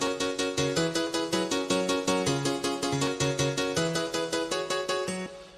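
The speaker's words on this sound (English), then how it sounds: "it ended up being really quick, really fast piano," Really fast piano riff in a tune produced in Logic: rapid, evenly repeating notes with a shifting bass line underneath, loud and continuous, fading slightly at the very end, with no voices.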